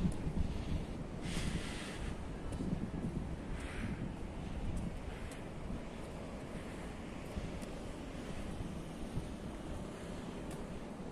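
Waves wash onto the beach at La Cala in Benidorm, a steady low surf roar mixed with gusting wind buffeting the microphone, with no voices.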